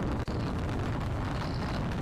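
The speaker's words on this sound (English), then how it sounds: "All you hear is the start of an explosion," Explosion in the video game Brick Rigs, a broad rumbling blast with a sharp brief crack near the start, then sustained loud roaring noise with no talk.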